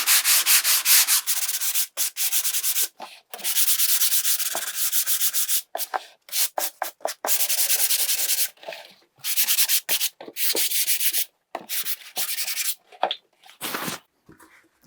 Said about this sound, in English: And I'm going to sand it.